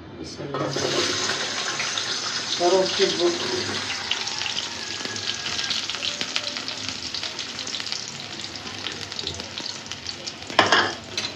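Garlic and onion hiss loudly as they fry in hot oil in a wok, a constant sizzle with stirring scrapes, a few brief watery splashes and a sharp clatter near the end.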